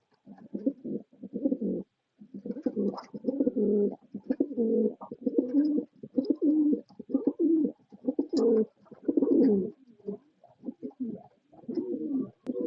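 A pair of Black Beauty Huma fancy pigeons, male and female, coo in repeated rounded, throaty bursts close by, the calls coming in steady rhythm with short pauses and no talk.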